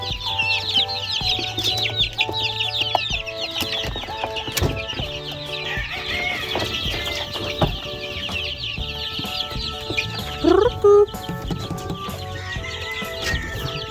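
Young chicks scurry about foraging for food, with constant high peeping and scattered clucks from the flock, plus light scuffing and a few sharp knocks close by; no talking.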